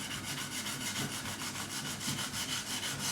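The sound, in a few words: sanding bass guitar fret edges with 1500 grit sandpaper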